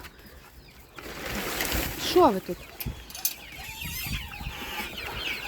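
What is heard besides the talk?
chicks chirping in the coop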